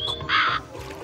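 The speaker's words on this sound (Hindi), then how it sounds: "पकड़ ले इस कौवे को" A crow in the Meena 2 video game gives a single loud, harsh caw lasting under half a second, heard clearly and up front with no talking.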